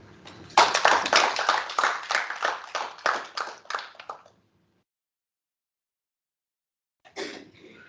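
Audience applause breaks out after a presentation at a regional training workshop in Malawi, a few seconds of close, uneven clapping that stops abruptly, followed by silence and a brief second patter of claps.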